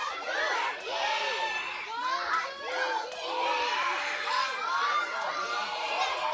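A crowd of children screams and shrieks together at a birthday party with a clown or magician show, a dense, loud, continuous chorus of high voices lasting several seconds.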